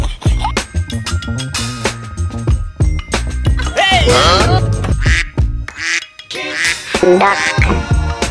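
Loud, close quacking from a duck, a series of raspy calls in irregular bursts with brief pauses between them.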